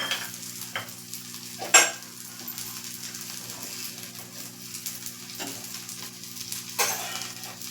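Rava (semolina) uttapam cooks in oil on a pan with a faint, steady sizzle, broken by a few sharp utensil clicks over a low background hum, with no talking.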